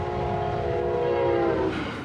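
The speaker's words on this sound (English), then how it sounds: "Brightline's test train is zooming through the Treasure Coast." A Brightline high-speed test train passes at about 110 mph along a stretch of the Treasure Coast, a loud, sustained rushing roar with tonal horn-like lines that swells and then shifts as it goes by.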